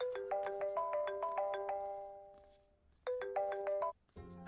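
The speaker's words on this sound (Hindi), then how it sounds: "भैया, आपको किसी का फोन आ रहा है।" A melodic phone ringtone chimes in a bright repeating pattern of quick tones, stops, then starts again before cutting off, in a Hindi comedy movie scene.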